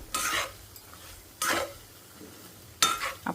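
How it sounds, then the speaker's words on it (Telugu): Gram flour frying in oil being stirred with a spoon in a pan for bitter gourd curry: three separate bursts of scraping and sizzling, each about half a second long, loud and close, with quiet gaps between them and no talking. "ఈ ఆయిల్లో ఈ పిండి కూడా వేగాలి కొంచెం సేపు సో ఇలా మొత్తం కలిసేటట్టు మనం కలుపుకోవాలి"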